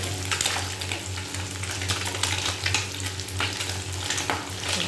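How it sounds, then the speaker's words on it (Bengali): Fish pieces fry lightly in a pan, giving a loud, dense, continuous sizzle and bubbling with occasional stirring scrapes, no talking. "মাছগুলোকে খুব কড়া করে ভাজবো না, হালকা করে ভেজে নেব।"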